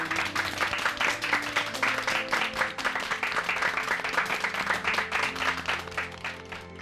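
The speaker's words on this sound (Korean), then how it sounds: "큰 박수 한번 칩시다" A group of people applauding together at a farewell for a boy leaving a shelter home, dense, even clapping sustained throughout, fairly close and loud.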